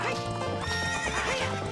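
Epona the horse neighs in Zelda: Ocarina of Time, a loud, close whinny with clip-clop hooves beneath, filling the short stretch.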